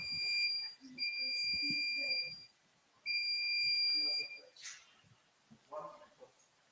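Electronic timer buzzer at a quiz competition, sounding in two long, shrill, steady beeps separated by a short gap, with people talking faintly around it.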